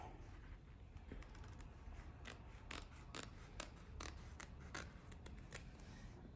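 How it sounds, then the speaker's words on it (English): Scissors snipping through canvas for a cross-stitch project bag, a series of quiet, crisp cuts in uneven rhythm, close but faint, with no talk. "So I'm gonna cut this off because we don't need that much length on there."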